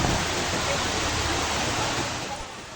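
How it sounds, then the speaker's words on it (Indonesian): Floodwater of a swollen river at Lubuk Minturun rushes beneath a bridge, a loud, steady broadband roar of churning current that holds constant throughout with no pauses. "Nih, aliran sungai dari Lubuk Minturun."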